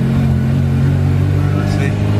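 A K-swapped Honda DA on nitrous revs hard with a loud, steady engine drone rising slightly in pitch, close up from inside the car.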